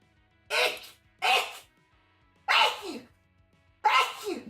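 Four sharp sneezes in a row, each a loud close burst separated by short pauses, over a quiet room hum.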